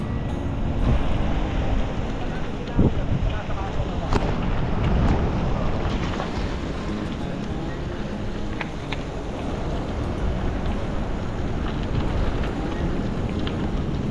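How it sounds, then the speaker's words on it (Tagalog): Large ocean waves surging steadily along the coast at General Nakar, Quezon, a broad continuous wash of surf mixed with wind buffeting the microphone. "Lalaki ng alon."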